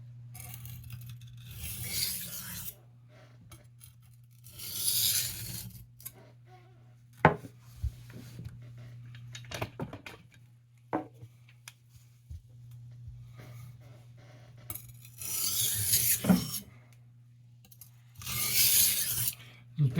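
An 8 inch carving knife having its bevel cut in: intermittent bursts of harsh abrasive rasping between quiet gaps, with occasional sharp metallic clicks and a steady low electrical hum underneath.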